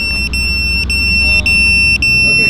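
A buzzer mounted in the body of a KingKong ET 115 V2 FPV drone emits short, sharp, high beeps in quick pairs, repeating at roughly half-second intervals over a steady low motor-like hum.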